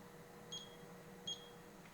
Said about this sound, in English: So I'm going to set that timer